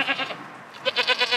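Goats on a farm bleat in two short bursts of wavering, nasal cries, one at the start and another near the end, with a quieter gap between them.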